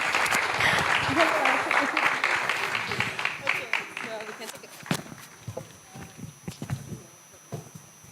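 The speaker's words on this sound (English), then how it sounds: "Please clap for my panelists." Audience at a fintech challenge semi-final session applauds the panelists, a dense burst of clapping that is loud at first and thins into scattered, sparser claps toward the end.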